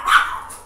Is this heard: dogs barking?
yes